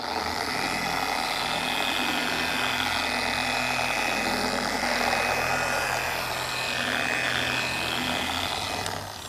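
A handheld polishing machine runs steadily at speed setting 6 while working polish over car paint to remove scratches and paint transfer. It gives a loud, continuous, even whine with a low rumble and no pauses.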